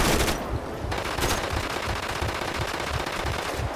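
Rapid automatic gunfire from a police shootout near shipping containers in the video game GTA 5, loud, dense and continuous bursts filling the whole stretch with no talk.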